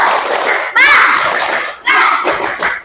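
Schoolchildren in a classroom doing a short rhythmic cheer, bright chanting voices in unison with quick claps, in two loud bursts separated by brief gaps.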